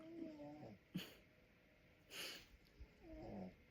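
Soft snoring breaths from someone asleep, a few drawn-out rasping inhales spaced by quiet pauses, close and faint.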